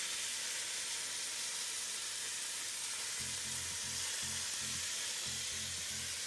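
Beef rouladen sear in a hot pan with a steady close sizzle and hiss, and a rhythmic low thumping of handling or stirring joins in during the second half.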